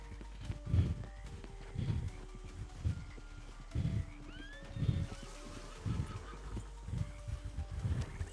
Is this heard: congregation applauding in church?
no